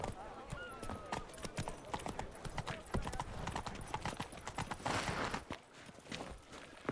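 Rhythmic horse hooves clip-clopping at a trot in The Witcher 3: Wild Hunt video game, close and fairly loud, with a brief pause near the end before resuming.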